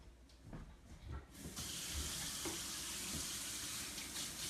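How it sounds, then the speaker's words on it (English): Tap water gushes loudly into a sink as hands are washed under the running faucet, after a brief stretch of quieter handling noises, with no talk. "First, we got to wash our hands."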